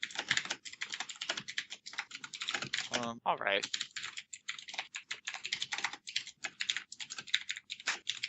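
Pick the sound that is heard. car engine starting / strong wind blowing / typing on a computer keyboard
typing on a computer keyboard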